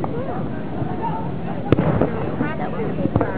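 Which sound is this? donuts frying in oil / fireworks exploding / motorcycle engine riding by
fireworks exploding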